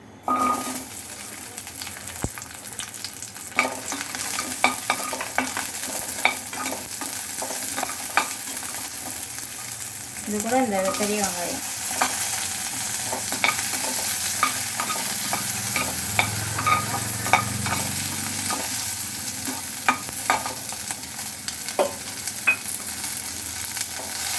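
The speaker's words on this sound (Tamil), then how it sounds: "தக்காளி வெங்காயம் எல்லாம் வதக்கிடலாம்" Tomato, onion and ginger sautéing in a pan for bottle gourd chutney, a loud continuous sizzle broken by frequent sharp clicks and scrapes of stirring, with a brief burst of bubbling midway, heard close up.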